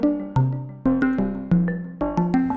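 Elektron Digitone 2 FM synthesizer playing a bouncy sequence of plucky, bright notes, roughly a dozen evenly spaced attacks with quick decays, close and alone with no voice.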